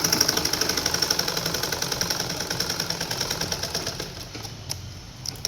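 A sewing machine stitches a girl's dress with a fast, steady mechanical rattle of evenly spaced clicks that grows slightly softer, then stops near the end, leaving a few faint knocks.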